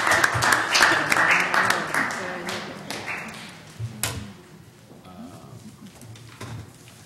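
A small group of planning commission members clapping in a meeting room, sharp scattered claps that start fairly strong, thin out into sparse taps and then fade, with a little talk in the background.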